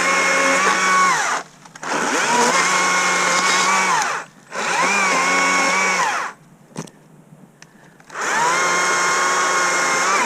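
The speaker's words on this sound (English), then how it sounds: "chainsaws are like one of the loudest pieces of yard equipment besides leaf blowers" A Stihl MSA 60 C battery chainsaw whines loudly in four sustained bursts, revving high while cutting, with short quiet pauses between them.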